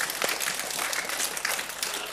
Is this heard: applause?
yes